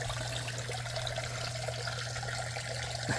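Water trickles and splashes steadily from a bathing skeleton Halloween decoration set up in a yard, a continuous even flow with a low hum running underneath.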